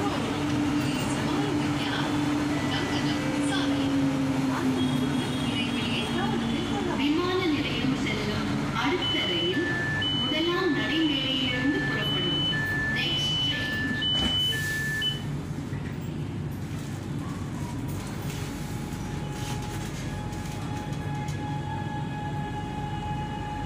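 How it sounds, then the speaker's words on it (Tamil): A metro train rides from Alandur toward the airport station. The carriage gives off a steady rumble and rail hum, with a couple of beeping electronic tones partway through and a voice speaking over the noise. "இப்போ நம்ம 1 ஸ்டேஷனா கிராஸ் பண்ணி ஏர்போர்ட் போறோம்."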